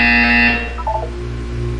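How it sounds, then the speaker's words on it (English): Buzzer tone in the video game Portal 2: a loud, steady harmonic electronic buzz lasting about half a second, then a short quieter blip over a low background hum. "You will hear a buzzer."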